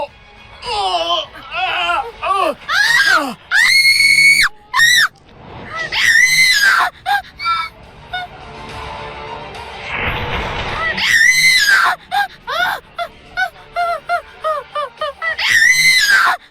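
A woman screams repeatedly in loud, close, high-pitched bursts with rising and falling wails, interspersed with frantic shouting in a tense drama scene.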